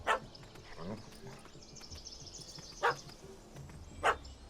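A dog in The Witcher 3 barks in short, sharp bursts, three or four distinct barks spread over a few seconds at moderate distance, with faint game ambience and some speech around them.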